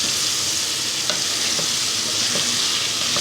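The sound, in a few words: stirring and frying bottle gourd stew in a pan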